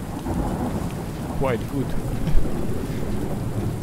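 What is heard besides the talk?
thunderstorm with rain in video game Under A New Sun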